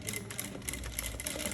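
A sewing machine stitches a trouser zipper fly in a quick, steady run of rapid mechanical clatter, close and moderately loud, lasting under two seconds.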